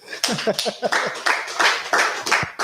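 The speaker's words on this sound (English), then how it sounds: "Clap for Jesus." An audience claps at a real-estate information session, with bursts of handclaps coming in uneven waves over and between a nearby voice talking.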